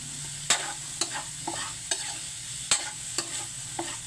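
Shrimp sautéing in a pan while making ginataang langka, with a soft steady sizzle and several sharp spatula scrapes and taps spaced through the clip, close by and moderately loud.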